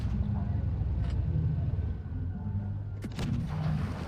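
A tank cannon in the game World of Tanks Blitz fires once with a sharp boom partway through, over a steady low rumble of engine and battle noise. No voices are heard.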